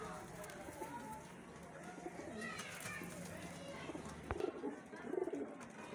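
Highflyer pigeons coo softly and intermittently at a pigeon seller's loft in Lahore, with other birds chirping faintly and someone talking throughout.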